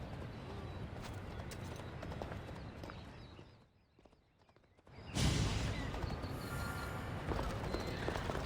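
Horse hooves clip-clop at a running pace in the video game Assassin's Creed Odyssey, loud and continuous, dropping off briefly before resuming, with a whinny and ambient game sounds mixed in.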